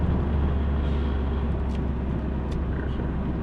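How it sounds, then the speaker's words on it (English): Broad, steady low engine rumble of a truck nearby in the open, holding at an even loudness throughout with no clear rise or fade as it passes. "There's a truck right there."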